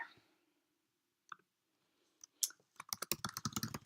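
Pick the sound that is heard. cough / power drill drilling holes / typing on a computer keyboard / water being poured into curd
typing on a computer keyboard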